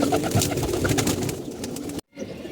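Pigeons coo steadily and close by in low, throaty repeated calls, then the sound cuts off abruptly near the end.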